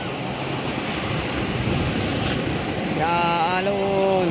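Sea waves washing in steadily as a broad, continuous rush, with a tonal hum from a passing engine or boat rising near the end.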